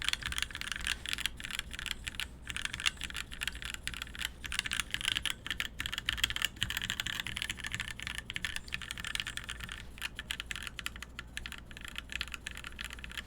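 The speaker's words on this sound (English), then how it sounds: "there you have it. The first typing run." Rapid, continuous clacking of keys on a lubed KIRA EXS mechanical keyboard, close up and fairly quiet, in an uneven typing rhythm with no talking.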